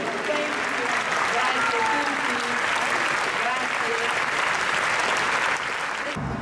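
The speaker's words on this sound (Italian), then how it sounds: "Un applauso grandissimo." Audience applause at the Locarno Film Festival award ceremony, a dense, loud, sustained wash of clapping lasting throughout before cutting off abruptly at the end.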